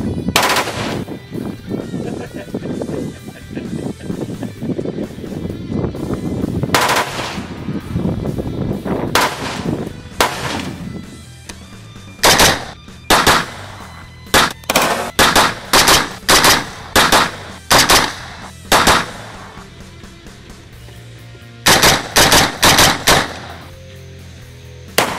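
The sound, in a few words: gunshots through Kineti-Tech muzzle brake with sound redirect sleeve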